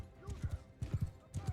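Horse hooves clip-clop at a slow walk in Mount and Blade II: Bannerlord, three paired groups of soft, low thuds in steady rhythm, quiet and close, with faint whooshing and a light whinny-like tone behind them.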